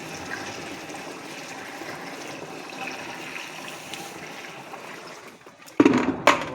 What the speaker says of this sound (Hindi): अब मैं इसमें डाल रहा हूँ पहले पानी